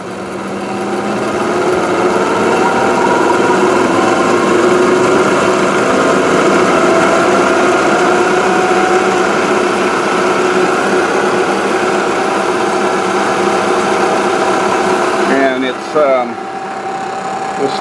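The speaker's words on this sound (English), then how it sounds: "Now I've got it on the high-speed transmission on the mill, and I'll go ahead and turn it up all the way." Bridgeport milling machine driven by a treadmill motor, running at high spindle speed on the high-speed transmission, gives a loud, steady mechanical whir and hum that holds throughout and briefly shifts near the end.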